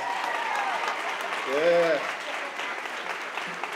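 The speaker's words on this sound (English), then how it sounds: "Round of applause for them." Crowd applause at a bodybuilding show, sustained clapping and cheering with a voice briefly speaking over it midway.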